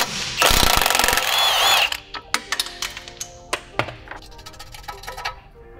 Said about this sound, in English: now we're going to remove our spindle housing pinch bolt